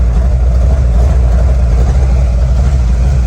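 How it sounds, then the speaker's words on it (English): A Ford GT40 replica engine idles roughly and steadily after an induction system change, a loud low rumble with an uneven, lumpy pulse throughout and no voices. "Nice rough idle"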